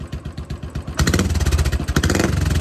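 A motorcycle engine runs close and loud right after a kick start, with a rapid, lumpy putting beat that grows fuller and steadier after the first second.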